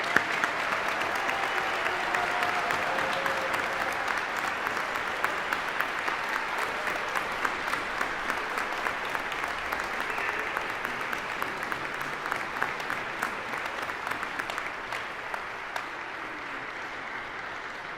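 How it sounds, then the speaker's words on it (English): Sustained audience applause for graduates at a physician assistant program commencement, a long, even wash of clapping from a large crowd that fades slightly toward the end. "Let us applaud you once again for your achievements."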